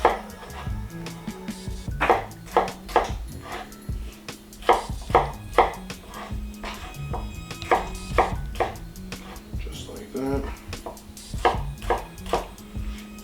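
Ingredients being chopped on a cutting board for a sauce, in quick rhythmic knife strikes grouped in short bursts with brief pauses, close and fairly loud.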